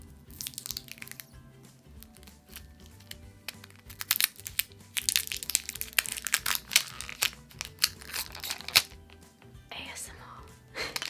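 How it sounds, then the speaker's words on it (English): Plastic wrapping is crinkled and peeled off small makeup concealer tubes in close, crisp bursts of crackling and crunching, with faint whispering in between. "Oh crap, they're also wrapped up in plastic."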